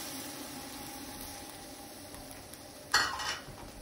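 A cup of wine poured into a hot pan for Italian American Sunday gravy, a sudden loud hiss and sizzle that fades out over a low steady kitchen hum.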